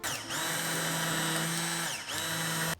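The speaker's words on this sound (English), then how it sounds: "why we're straining and immersion blending this" Immersion blender whirring as it purees a pork roast sauce until foamy, two close, steady motor runs separated by a brief dip, with no speech.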